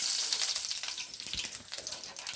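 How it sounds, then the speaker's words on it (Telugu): Mustard seeds hitting hot oil in a kadai while tempering for dhokla, a bright, crackling sizzle that starts strong and settles into a busier spitting pop, close and unbroken by talk. "ఆయిల్ వేడైందండి. దాంట్లో కొద్దిగా ఆవాలు వేసుకుందాం."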